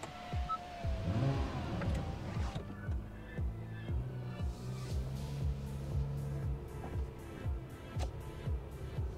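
A 2022 Acura NSX Type S with aftermarket downpipes accelerates on the road, its engine revving up through rising and shifting tones, close and loud, with brief gear changes.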